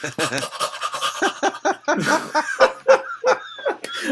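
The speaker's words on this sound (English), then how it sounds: "all I hear is your dog panting right into the microphone" Close, heavy dog panting right against a microphone, rapid breathy bursts in an uneven rhythm that dominate the recording, with some vocal-like sounds mixed in.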